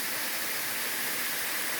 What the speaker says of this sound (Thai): น้ำตกมีทั้งปี นี่ตลอดทั้งปี